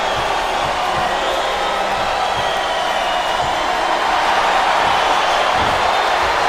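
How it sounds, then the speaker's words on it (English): Dense, continuous crowd roar fills an arena in the video game Smackdown vs. Raw 2008, a steady wash of many voices and murmurs with no single sound standing out. "Sounds like this crowd's got something on their minds"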